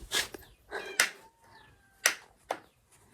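A cat meows several times in short separate calls while being fed in a home kitchen, some rising and falling, with brief thuds between them and no talking.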